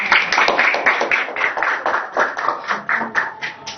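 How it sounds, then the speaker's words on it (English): Audience clapping after a school Independence Day performance, a steady run of close, sharp hand claps lasting several seconds with no voices over it. "A big round of applause for our performance."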